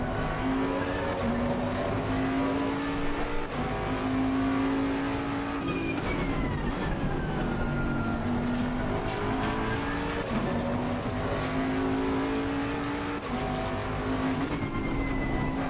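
Bentley GT3 race car engine in Assetto Corsa Competizione droning steadily at high revs with rising and falling pitch through gear changes, loud and continuous with occasional tyre noise, no talking.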